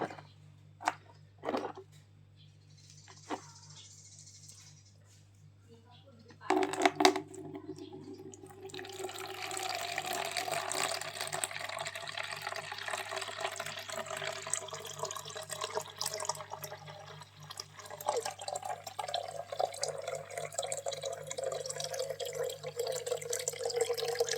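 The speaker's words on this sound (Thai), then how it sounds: "เดี๋ยวผมจะเทน้ำออกเนาะ" Water poured out of a container after sediment has settled, starting with a few scattered drips and then a steady, faint splashing pour that runs on for many seconds.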